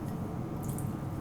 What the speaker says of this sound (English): rotating the canister as I pour my water out